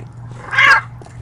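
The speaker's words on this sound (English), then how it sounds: "I have 7 cats." A single cat meows in the video game Postal 2, a short, fairly loud cry rising out of a low, steady background hum.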